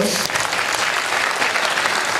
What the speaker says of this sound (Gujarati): ભાઈ કેવલ પ્રજાપતિ માટે એક જોરદાર તાળી પાડો